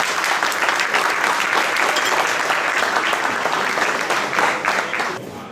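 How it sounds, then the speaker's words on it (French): Loud, full audience applause at a restaurant awards event in Le Havre, rolling on for several seconds, thick and continuous, then tapering off at the close. "on peut les applaudir très fort"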